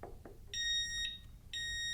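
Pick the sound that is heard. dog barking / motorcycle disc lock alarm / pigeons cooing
motorcycle disc lock alarm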